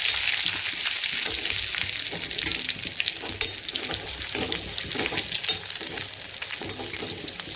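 Garlic and curry leaves spluttering in hot oil with mustard seeds and cumin, a dense continuous crackling sizzle with scattered stirring scrapes, close and steady throughout.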